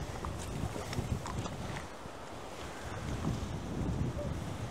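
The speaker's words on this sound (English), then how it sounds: "We're having quite the wind now." Strong wind buffets the microphone at a small creek during autumn fly fishing for wild trout, a steady low roar with gusty rumbles and faint water movement throughout.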